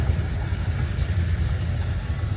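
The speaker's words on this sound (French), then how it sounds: "La voiture, elle passe." A car engine rumbles steadily nearby on a Marrakech street, a low, continuous mid-pitched drone with no distinct pass-by peak and no speech.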